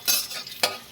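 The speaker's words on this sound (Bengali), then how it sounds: "নাড়াচাড়া করে নিলাম।" Eggplant and potato frying in oil in a wok are stirred, giving quick scraping, sizzling bursts, one near the start and another just past the middle, close and fairly loud.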